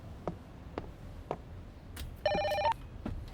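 A telephone rings indoors with a short electronic trill at about 2.3 to 2.7 seconds, set among scattered soft clicks and household ticks, clear and fairly close, with no talk.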